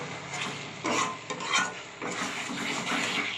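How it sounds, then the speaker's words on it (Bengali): Chicken pieces are stirred into a thick, well-cooked masala with green chillies in a pan: steady, close scraping and rubbing strokes with soft sizzling underneath and no talking. "এবার মাংসগুলো দিয়ে দেবো, একটু নাড়াচাড়া করে চিকেনগুলো এর মধ্যে দিয়ে দেবো"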